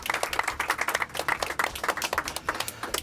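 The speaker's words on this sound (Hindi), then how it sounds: "इनके लिए भी भरपूर तालियां होनी चाहिए।" Audience at a Pakistan women's under-19 cricket event claps steadily for a player from Quetta, Balochistan, with dense overlapping hand claps at moderate loudness and no talk over them.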